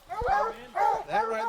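Hunting hounds bay at a bear in three close, loud, drawn-out howling barks.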